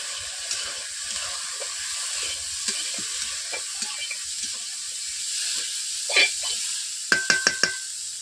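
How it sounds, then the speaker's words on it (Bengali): Mixed vegetables frying in a kadai give a continuous close hiss broken by soft stirring scrapes. A burst of louder clinks and knocks from a spatula against the pan comes near the end. "সবজিগুলো ভাজা হয়ে এসছে।"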